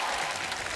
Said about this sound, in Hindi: हिमेश सर के लिए जोरदार तालियां।